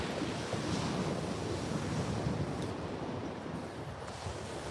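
Beach surf and wind on an open shore, a steady wash of waves mixed with gusty wind buffeting the microphone, continuous and fairly close with no voices.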